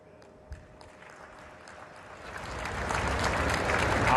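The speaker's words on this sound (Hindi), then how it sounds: "इधर ताली बजाने में देर हो गई" Audience applause at a televised political address, beginning faint and scattered and swelling into steadier, louder clapping from a crowd.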